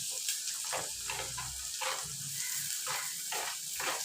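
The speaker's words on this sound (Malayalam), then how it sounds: "നമുക്ക് അടുത്തത് നമുക്ക് സവാള ഇടാം" Chopped onion, one large bulb finely diced, dropped into hot oil with green chillies for a kappa bonda batter, sizzling and crackling steadily up close with stirring bursts and no voices.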